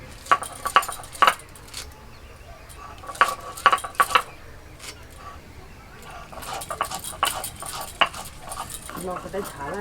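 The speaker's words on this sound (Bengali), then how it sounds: "তো এখন আমি ধনেপাতাগুলোকে ভালো করে কুচিয়ে নিচ্ছি।" Fresh coriander leaves being finely chopped with a knife, clusters of quick, crisp taps that come in bursts and pauses, with people talking in between.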